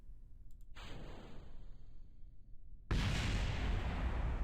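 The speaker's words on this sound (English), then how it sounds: "that's a very big explosion for a very small heat shield" A heat shield explodes in Kerbal Space Program: a sudden loud, broadband blast that hits hard and holds as a dense, roaring wash. It follows a stretch of low rumbling noise and a few faint clicks.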